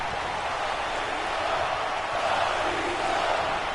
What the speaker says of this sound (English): Crowd chanting for Batista.